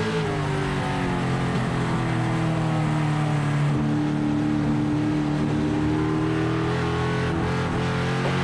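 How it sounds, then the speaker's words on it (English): Race cars roar around a short oval track in weekly racing, a dense, continuous engine drone from several cars in the mid-pack, loud and unbroken with no voices. "Butler now being pressured in the mid-pack of cars by Alexandra Fern."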